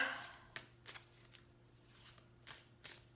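A Banksy tarot deck is shuffled by hand, soft riffling bursts of cards repeating every half second or so, close but quiet against a faint background hum.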